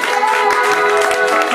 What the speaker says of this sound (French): tu acclames le Seigneur maintenant